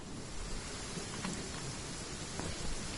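Steady rain from a video game storm, a dense, faint hiss of falling drops with a low rumbling undertone, continuous and even with no voices.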